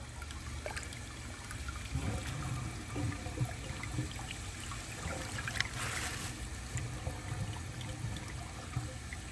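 A 1963 blue American Standard Cadet toilet flushing, with rushing and trickling water at a moderate, steady level and a brief louder surge midway.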